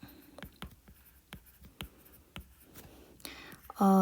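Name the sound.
writing nouns by hand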